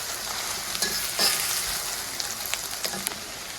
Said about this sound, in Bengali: এখন পেঁয়াজ আর আদা রসুন হালকা ভেজে নেব।